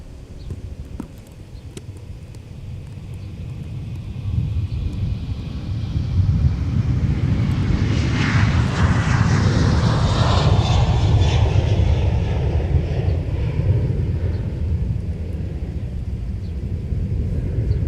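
A passenger airliner takes off from Minneapolis–Saint Paul airport, its engine roar rising from a distant rumble to a loud sustained thunder as it climbs past, then slowly easing.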